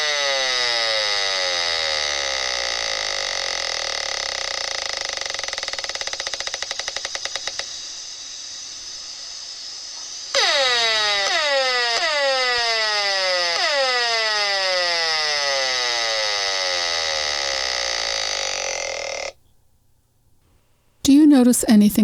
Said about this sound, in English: If we could hear this radiation, this is what it would sound like.